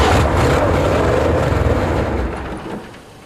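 After sitting for seven years, a 1977 GMC truck with a 400 engine rumbles loudly and close with a deep, rough churning, then gradually settles and fades over a few seconds.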